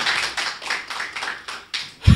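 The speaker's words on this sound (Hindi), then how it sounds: "एक बार तालियां बजाएं" An audience at a Hindi poetry gathering (kavi sammelan) gives steady applause. Many hands clap in a dense, rhythmic wave at moderate loudness, swelling and easing in pulses, with a thump near the end.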